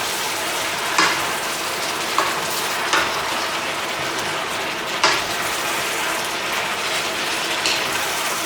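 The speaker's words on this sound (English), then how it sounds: "let's stir fry this up in this delicious sauces" Chicken and potatoes stir frying in sauce in a pressure cooker pot give a loud, close sizzle, broken by several sharp scraping stirs and clacks at uneven intervals.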